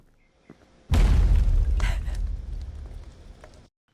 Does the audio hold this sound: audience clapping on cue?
no